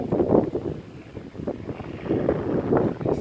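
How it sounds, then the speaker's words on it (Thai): Strong wind buffets the microphone at an old airfield, a continuous loud rumbling roar that swells and dips without pause. "ลมแรงนิดนึงครับ เสียงลมอาจจะรบกวนนิดนึง"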